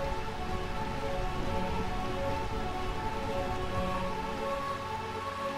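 Steady rain pours in Burmecia, the rain-soaked kingdom in Final Fantasy IX, a continuous wash of falling water heard alone at an even level over soft game music tones.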